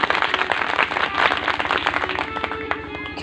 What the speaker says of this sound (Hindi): ताली बजा दो।